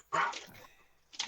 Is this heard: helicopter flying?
no